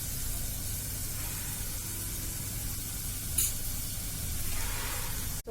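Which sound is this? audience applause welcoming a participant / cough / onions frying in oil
onions frying in oil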